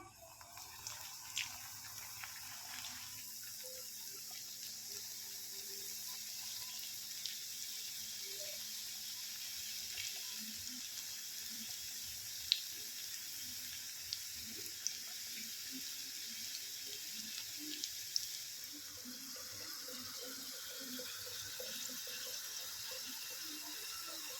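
Potato slices for potato chips frying in a pan of hot oil, a steady soft sizzle with faint scattered bubbling pops, quiet and continuous throughout.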